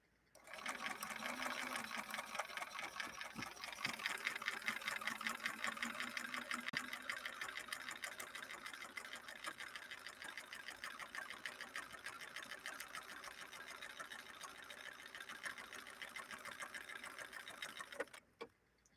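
A Bernina Record 930 Electronic sewing machine stitches in one continuous run, a quiet, rapid, even mechanical whir close by that stops abruptly near the end.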